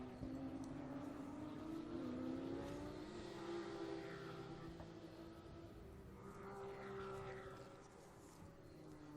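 Porsche Carrera Cup race cars in the 2012 Carrera Cup Deutschland final race at Hockenheim, with faint, distant engines whining and shifting in pitch as cars pass and accelerate.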